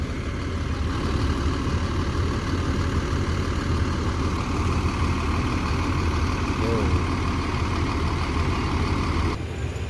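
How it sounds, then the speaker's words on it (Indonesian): A bus idles steadily at Terminal Solo, its low engine rumble constant and close throughout, with faint background voices and terminal noise around it. "Ini bus pertama dari Palala yang masuk Terminal Bare Solo."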